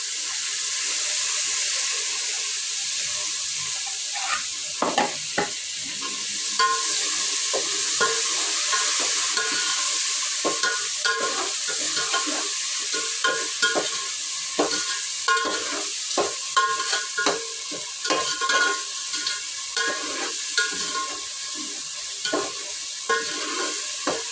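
Ginger garlic paste frying in hot oil for mutton curry, a continuous close sizzle broken by repeated scraping and clinking strokes of a spoon stirring the pan.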